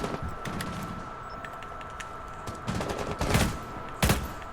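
Scattered gunfire from a small firefight in Rainbow Six Siege, a few short bursts over steady game ambience, with sharper, louder shots clustering near the end.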